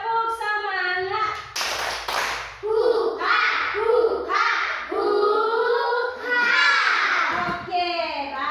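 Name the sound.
children doing a spirit clap in class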